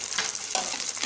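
Mint and coriander leaves with green chillies sautéed in a pan for street-style bhel puri, a steady close sizzle with faint stirring scrapes.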